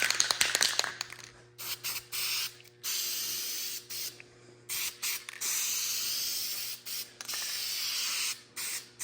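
Aerosol or spray gun bursts applying cheap tractor paint to car parts for a big block Suburban, a series of loud hissing sprays of a second or two each separated by short pauses, with no talk.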